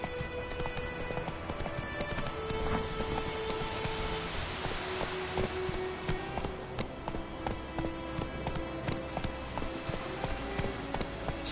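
Hooves of the horse Roach clip-clop steadily at a gallop in The Witcher 3 on PS4, a continuous rhythmic beat over rain-like patter and game ambience, with no voices.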